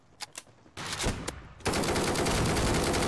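Rapid bursts of automatic gunfire in the Forward Assault shooter, a few sharp shots first, then a heavy sustained volley that grows loud and continuous to the end.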